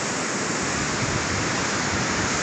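Sea waves roll onto the beach at Navapur, a continuous broad wash of surf noise at close range, steady and fairly loud without distinct breaks or talking.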